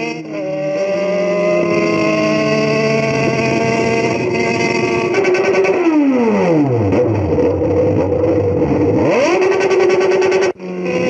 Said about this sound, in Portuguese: Tá só o cano ainda, tá um barulho alto pra caramba.